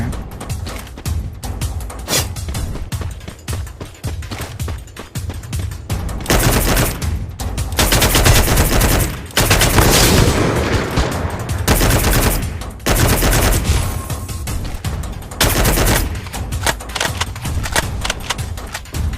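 Rapid automatic gunfire in the shooter game Free Fire, loud sustained bursts and fusillades with brief pauses between them, close and dominant throughout.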